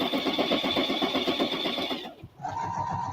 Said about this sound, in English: sewing machine's noisy